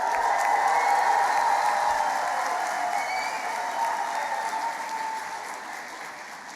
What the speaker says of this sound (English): You're allowed to clap, whoop, cheer, stamp your feet,